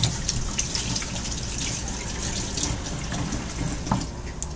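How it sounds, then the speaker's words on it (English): Tap water runs steadily into a kitchen sink as hands are washed after food prep, a continuous close hiss with faint splashes and drips throughout. "Wash up my hands real quick."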